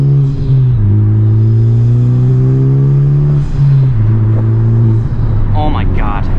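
A Honda Civic Type R engine put in sport mode, a strong steady drone from inside the car that dips and shifts in pitch as it rises between gear changes, loud and continuous.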